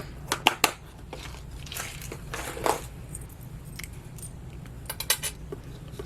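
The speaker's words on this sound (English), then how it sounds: "let's put the lid back on here" A lid is pressed back onto a small container of silver keychain hardware, giving a handful of crisp clicks and light metallic rattles, then a looser jangle of small parts near the end.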